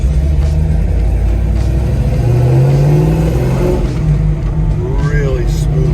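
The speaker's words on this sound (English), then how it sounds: "Nice, strong exhaust." 1969 Chevrolet Chevelle SS Yenko tribute cruising on the road, its engine and exhaust giving a steady, loud low rumble with a brief rise in revs, while people talk inside the car.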